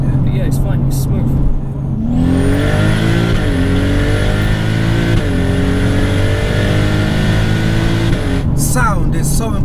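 A turbocharged 535 BHP VW Golf R32 hatchback engine revs hard and climbs through gears, a loud, rising drone heard from inside the cabin, with brief dips between pulls.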